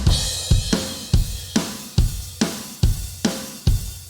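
Heavily processed rock drums with compression, gating, equalization and sampled snare and kick: punchy, even kick and snare hits in a steady groove, each with a tight, booming attack and cut-off tail, louder and fuller than a raw kit.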